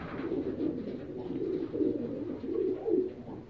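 Young racing pigeons coo steadily inside a loft in Cape Coral, Florida, a soft, continuous low murmur of overlapping calls with gentle swells and no talking.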